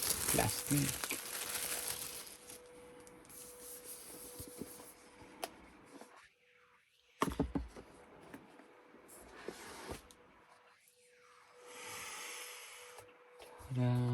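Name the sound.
plastic wrapping being removed from iPad Pro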